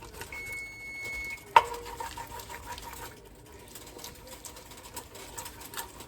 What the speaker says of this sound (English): Scrape that all up as you see it.